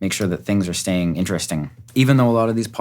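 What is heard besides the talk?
None of the usual background noises is heard.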